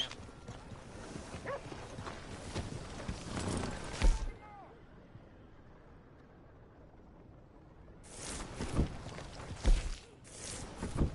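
Galloping horse hooves in Red Dead Redemption 2, a steady rhythmic clip-clop at moderate loudness running under game ambience and voices.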